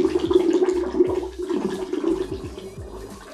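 Pineapple juice is poured into a Blue Hawaiian cocktail, a steady close-up stream of liquid splashing and gurgling for about three seconds with no talking.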